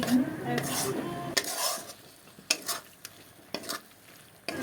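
Capsicum, tomato, cumin, chilli and turmeric powders frying in a pan while a spatula stirs them, with a steady sizzle under repeated sharp scraping clacks of the utensil against the pan.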